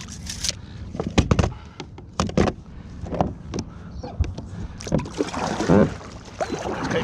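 Paddle strokes from a Wilderness Systems Tarpon 120 kayak, a series of irregular splashes and knocks close by, with water sloshing and light wind between strokes.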